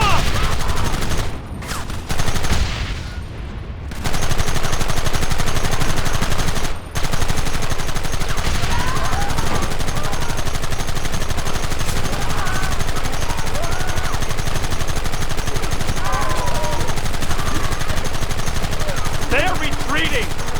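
Gunfire in a fight rattles almost without break, rapid overlapping shots and machine-gun-like bursts that are loud and close, with a couple of short gaps early on and shouted voices in the mix.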